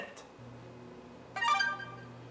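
A phone gives a text message alert, a short bright chime that rises above a steady low hum, heard once and fairly close with no voices.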